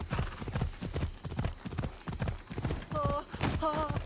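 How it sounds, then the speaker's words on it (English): Horse hooves clip-clop at a steady walking rhythm in the video game Assassin's Creed Odyssey, loud and close, with brief tonal game sounds late in the passage. "A nag of a horse."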